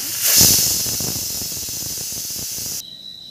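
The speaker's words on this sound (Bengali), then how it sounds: "এই যে আমি প্রেসার কুকারটা" A pressure cooker, in use while cooking ghugni, lets out a loud, steady hiss of steam. The hiss swells early, holds for nearly three seconds, then cuts off abruptly, leaving only a faint tone behind.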